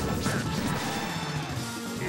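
Sharp smashing hits and impacts from a Project M fighting game match during a grand final, a dense run of crashes and whacks with a tech landing, loud and close.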